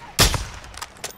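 A single loud gunshot burst in the Modern Warfare 2 campaign sniper mission in Spain, followed by a few fainter shots and faint voices.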